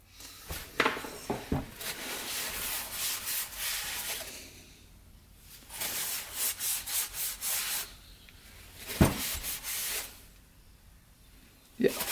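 A Honda 400ex engine part being roughed up by hand sanding, with close, loud abrasive scrubbing in several long rasping bursts separated by brief pauses and a few sharp knocks.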